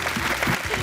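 A studio audience on a Bengali television cooking show claps together in a brief, steady burst of applause, mixed with a faint murmur of voices.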